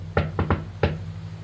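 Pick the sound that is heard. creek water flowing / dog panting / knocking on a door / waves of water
knocking on a door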